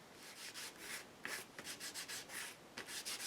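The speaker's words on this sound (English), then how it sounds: "So in comes the sandpaper. Let's really grunge it up." Hand sanding of paper with sandpaper for a grungy distressed look, heard as close, brisk rubbing strokes in a steady back-and-forth rhythm with no voices.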